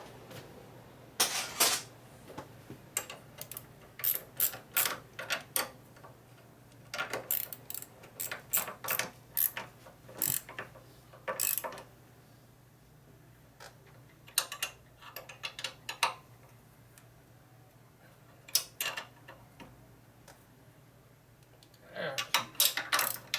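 Ratchet wrench clicking in quick bursts while tightening the regulator bolts on a 1988 Harley-Davidson FXR, with close, sharp ticking runs separated by pauses across the whole stretch.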